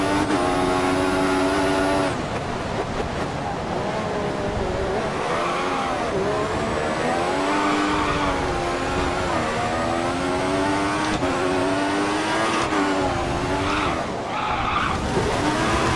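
Formula 1 race car in the F1 2014 video game, 2015 mod, at the China circuit: a steady high engine whine with gear shifts and pitch swoops, tires skidding and squealing throughout, loud and continuous, no talking.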